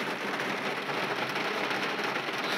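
Summer rain falls steadily outside an open door, with large drops dripping and pattering in a dense, continuous hiss that stays close and even throughout, with no voices.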